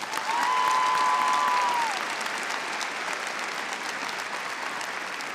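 Audience applause at a university arts and sciences commencement ceremony, a dense sustained wash of clapping from a large crowd that stays loud throughout, with a brief faint tone near the start.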